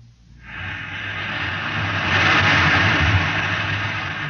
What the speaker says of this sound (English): You can hear the roaring of the gases in the test chamber behind me.